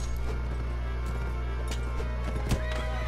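Horse neighing in the medieval combat game Mount and Blade Warband during online multiplayer, a brief whinny rising around the middle of the clip over steady game noise and clattering hooves.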